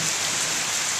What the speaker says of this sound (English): So now this is a perfect type of rain we're getting right here.